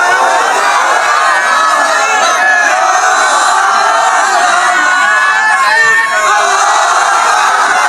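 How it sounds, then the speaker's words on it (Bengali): A large crowd at a religious sermon shouts the takbir chant, a loud continuous mass of voices roaring together close up and filling the whole stretch without a break. "এ দেখি একজন তাকবীর দাও তো, আওয়াজ করতে জোরে"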